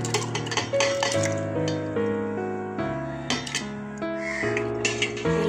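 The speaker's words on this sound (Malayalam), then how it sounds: "ഇളക്കി കൊടുക്കണം, ഇല്ലെങ്കിൽ അടിയിൽ പിടിക്കാനുള്ള സാധ്യത ഉണ്ട്" A ladle stirs ada payasam in a pot of boiling milk, with repeated metallic scraping and clinks against the pot close by over a steady bubbling background, and no talk.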